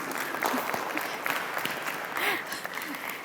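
An audience claps in a brief, steady round of applause at an education event in Pakistan, with a voice speaking over the clapping.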